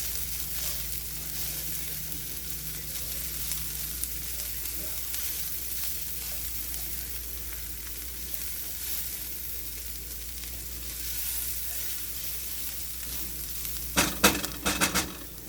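Onions with oregano sauté in a pan, a steady soft sizzle that runs throughout, with a few brief stirring clatters near the end.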